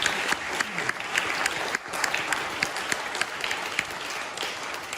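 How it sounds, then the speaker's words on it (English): An audience applauds, a steady dense patter of many hands clapping for several seconds, fairly close and with no one speaking over it. "you really do deserve a round of applause"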